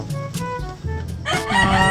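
Chickens cluck and a rooster crows nearby, several calls overlapping and growing busier toward the end.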